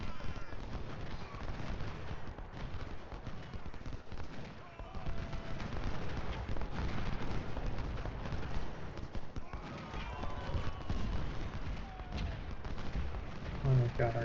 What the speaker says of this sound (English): Oh, we've got artillery.